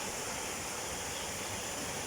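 Steady, broad rushing of flowing river water fills the air, close and constant with no breaks.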